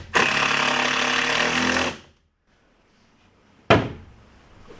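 Stainless steel screws driven into pine deck beams: a loud, close two-second rattling buzz of a driver stops abruptly, followed by silence and then a short sharp burst that fades.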